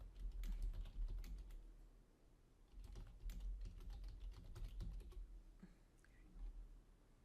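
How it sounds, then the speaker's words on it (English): Fingers tap quickly on a computer keyboard in bursts of soft, quiet clicks with short pauses, close by and without talk. "If you want to add more notes, you can continue typing."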